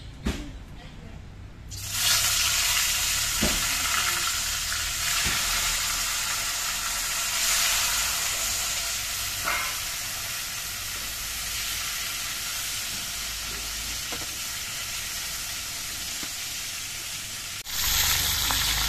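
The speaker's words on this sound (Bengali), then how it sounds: "এবার আমি মাছের মাথাগুলো ভেজে নিচ্ছি" Steady, loud sizzling of fish heads frying in hot mustard oil, a broad crackling hiss that flares up after a quiet start and continues with a few faint knocks.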